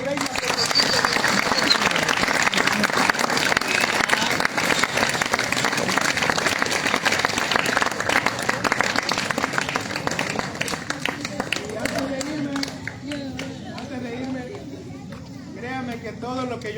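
A congregation at a scouts' campfire church gathering gives loud, sustained applause and cheering that fills the space, then thins out toward the end as a few voices and scattered claps remain.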